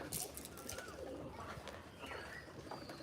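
Pigeons on a village pigeon farm coo softly in a low, repeated murmur with occasional chirps, faint and steady under a quiet outdoor background.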